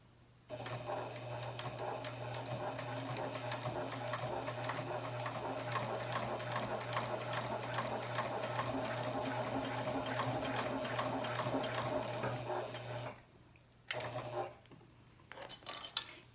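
A Janome HD9 sewing machine stitches through layers of vinyl, foam, lining and woven fuse, running in a steady, fast, close mechanical whir for about twelve seconds before stopping, followed by a couple of short bursts.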